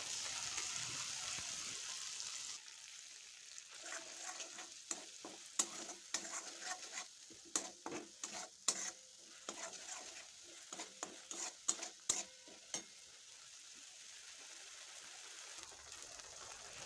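Green chili and ginger paste frying in hot oil for a fish curry (doi katla), with a steady sizzle and a run of sharp spatula scrapes and clicks against the pan through the middle.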